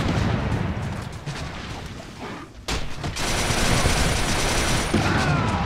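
Gunfire in multiplayer play of the video game Resistance 3, with dense bursts of rapid shots and booms rolling together, loud and continuous, briefly thinning before a sharp crack and another sustained volley.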